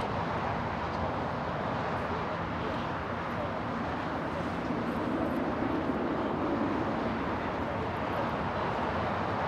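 An airplane landing at LAX gives off a steady, broad jet roar that holds evenly throughout, heard from a distance with no voices.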